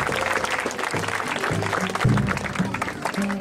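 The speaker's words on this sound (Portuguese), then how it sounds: "Salva de palmas pros três reis do Oriente." A crowd at a Folia de Reis street celebration in a town square claps for the three kings of the Orient, a dense burst of applause heard nearby, mixed with voices and some background music.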